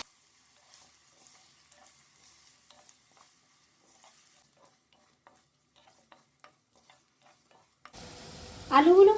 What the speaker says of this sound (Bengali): এবার দিয়ে দিচ্ছি টুকরো করে কাটা একটি আলু। আলুগুলো ফ্রাই করে নিচ্ছি।